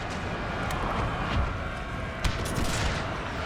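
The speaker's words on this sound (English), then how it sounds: "So we will be content with firing round shot on them." Battle noise from Total War: 30 Years War, with Habsburg forces firing round shot. Dense, continuous gunfire crackle and scattered booms of cannon play over a steady roar of fighting.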